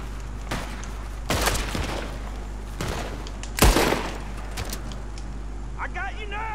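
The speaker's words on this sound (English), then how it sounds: "Gunshots are coming" Sharp gunfire cracks from Red Dead Redemption 2, shots fired from a barn, a few scattered shots with one loud burst, under steady engine hum and background voices.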